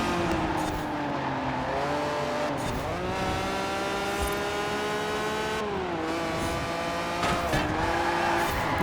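Fiat X1/9 in Forza Horizon 4 taking a corner near full throttle, its engine whining high and steady with pitch dips at gear shifts, joined by squealing tires, loud and close with no talk.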